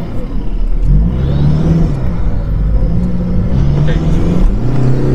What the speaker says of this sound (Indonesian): kalau ada jalan kosong gue pengen gas, gue mau lihat nih akselerasinya gimana sih sebenarnya di mobil